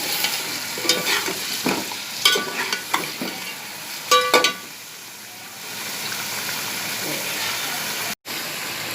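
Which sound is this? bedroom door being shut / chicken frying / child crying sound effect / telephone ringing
chicken frying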